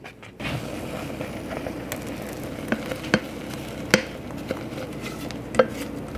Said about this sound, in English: Give it one more little stir.